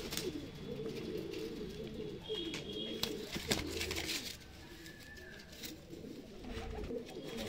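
Madrasi pigeons cooing, low throaty coos repeating close by over a steady background of fluttering and faint rustles, with occasional clicks and no talking.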